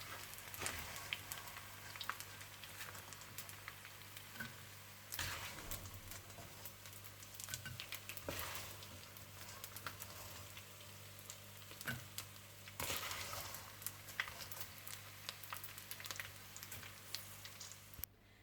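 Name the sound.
edible gum frying in ghee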